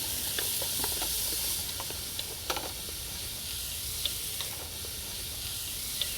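Onions and garlic sizzle steadily in extra virgin olive oil in a pan, a soft continuous frying hiss broken by faint clinks and scrapes as they are stirred, with no talking.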